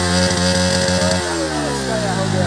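A modified exhaust on a 2022 BS6 160 motorcycle revs loudly nearby. A pulsing, throbbing note at the start gives way to a steady, rising rasp, and a voice seems to speak underneath.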